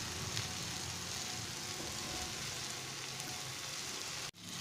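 Chicken reshmi kebab sizzles steadily in butter in a pan, a dense and even frying crackle that runs without pause before cutting off sharply near the end.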